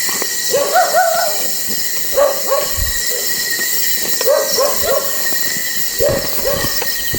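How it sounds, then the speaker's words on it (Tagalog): A dog barks in short repeated bursts, several volleys spaced across the clip, over a steady outdoor night hum of insects. "mukhang nagagalit na yung aso"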